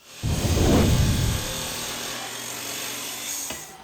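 Wood being trimmed for a wall panel in a DIY motorcycle-hauling van conversion, a loud rough rasping cut lasting about a second, then a softer steady scraping that tapers off with a faint knock near the end.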